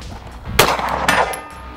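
A Springfield Prodigy pistol fires at a 100 target outdoors, giving two sharp, loud cracks about half a second apart, each followed by a brief ringing tail.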